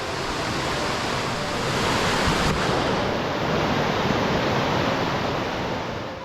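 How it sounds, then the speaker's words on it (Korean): Steady, loud rushing water of a mountain valley stream at Yongchu Valley, Gapyeong, fills the whole recording without a break, a broad continuous roar close by. "이 물소리 들리시지요?"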